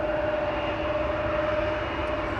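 KLM aircraft at Amsterdam Schiphol Airport, a steady broadband engine roar with a faint sustained whine, continuous and fairly loud, with no talk.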